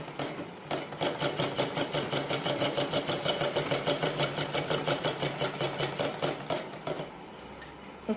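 A sewing machine stitches a can-can petticoat in one steady, even run of rapid needle strokes lasting several seconds, then slows and stops, close and with no talking.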